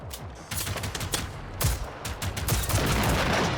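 Gunfire in the video game Generation Zero, set in a post-apocalyptic Swedish wasteland, with rapid bursts of shots and sharp cracks that repeat irregularly and sound loud and close, with no one talking.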